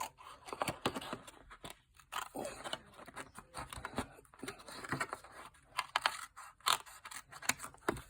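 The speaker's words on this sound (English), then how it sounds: "Now I'm going to take my scissors and cut right down this center." Scissors snip down the center of decorative paper for a handmade mini-journal, a close series of irregular crisp cuts and rustles with short pauses between them.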